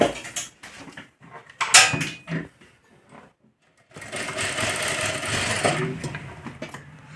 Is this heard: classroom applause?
no